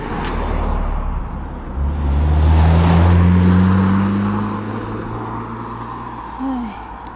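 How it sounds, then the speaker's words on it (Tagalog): A car approaches along a residential street in Spain, its engine rumble swelling to a peak near mid-clip and then fading as it passes, with distant ambient noise underneath and no talk. "Kaya yun, may kotse na parating."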